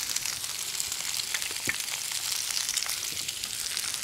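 Chicken stir fry sizzles steadily in a hot pan, a continuous close crackling hiss with a few small pops and no talking.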